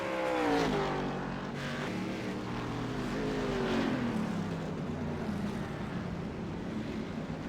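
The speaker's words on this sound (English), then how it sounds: "He's in the tires and you can hear the engine going" A race car stuck in the tire barrier at Summit Point revs its engine continuously, the pitch rising and falling in sweeping waves beneath steady track ambience.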